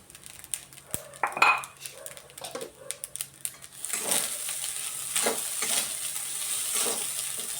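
Food frying in a pan while being stirred, with clattering utensil knocks early on, then a broad steady sizzle that swells and holds through the second half, heard up close.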